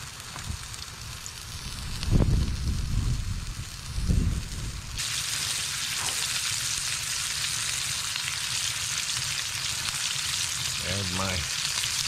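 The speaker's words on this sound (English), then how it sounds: "Let that oil heat up there." Cooking oil heating in a pan inside a hot tent on the ice, a steady broadband sizzle with a couple of louder bursts early on, close by and without talk.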